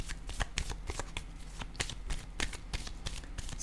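Tarot cards being shuffled by hand: a dense, close riffle of rapid crisp flicks and taps running steadily throughout.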